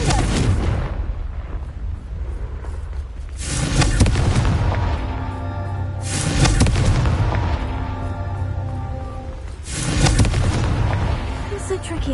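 Confringo fire spell from Hogwarts Legacy blasting three times, each a loud booming burst with a rumbling tail, spaced a few seconds apart over a steady backdrop of game ambience.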